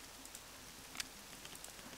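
Rain falling in the video game Rollercoaster Tycoon 3, a soft, steady patter of drops with faint crackle, quiet and continuous with no voices.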